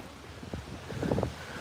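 Gusty wind roars across the microphone with rustling leaves, a steady broadband whoosh swelling briefly louder midway, no voices.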